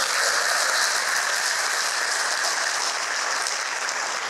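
Audience at a police superintendent's talk applauding long-serving drivers, with dense sustained clapping that stays loud and even for several seconds, with no talk over it.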